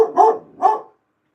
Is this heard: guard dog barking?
yes